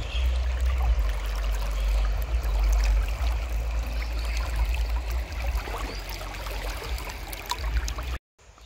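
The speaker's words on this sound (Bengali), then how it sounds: "পরের দিন সকালটা শুরু হলো পাখিদের কলরব আর নদীর এই কলকল আওয়াজ শুনে।" The Murti river babbles steadily in the morning near a forest resort in the Dooars, a close continuous gurgle of flowing water that cuts off abruptly at the end.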